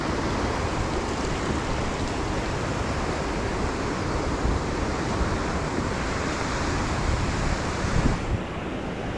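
A small stream with a little waterfall tumbling down a bank at a campsite, heard as a steady, loud broadband rush of water that stays constant throughout.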